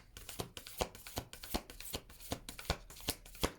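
Moonology oracle cards being shuffled by hand, a quick regular run of crisp riffling flicks about three per second, close and quiet, with no talking.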